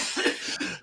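A person gives a short, rough cough in two quick bursts that fades out within a second, close and alone, with no other talk.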